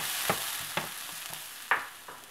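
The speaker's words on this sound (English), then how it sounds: "I'm going to fry these up for about another minute, or just until the bora has a chance to soften as well" Chinese long beans (bora) frying and being stirred in a pan with other ingredients, giving a steady soft sizzle broken by several sharp scraping stir strokes.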